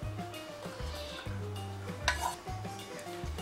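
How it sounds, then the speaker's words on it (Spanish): Rice and barley being stirred together with other half-cooked ingredients in a large pot, giving a steady scraping and rubbing sound with a faint sizzle and an occasional utensil clink against the pot. "Ahora revolvemos con el resto de los ingredientes que ya teníamos aquí medio cocinados"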